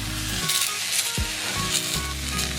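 An egg sizzles as it hits a hot plate pan, its crackling fry close and steady for a few seconds, with low sizzling continuing underneath.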